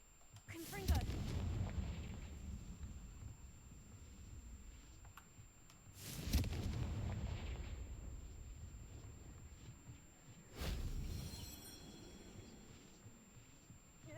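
Confringo fire-blast spell from a Harry Potter video game, three separate booming explosions spaced several seconds apart, each a sharp burst fading into a long rumbling tail.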